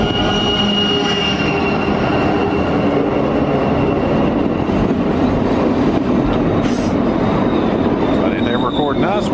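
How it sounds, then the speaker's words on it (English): A train rumbles past close by near Skagway, Alaska, a loud continuous roar of wheels on rails with metallic squeals and clatter throughout. "So we should be having a train pass us shortly so we can go fast again."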